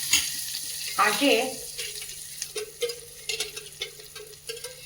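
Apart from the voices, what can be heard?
butter melting and sizzling in a pan for paneer masala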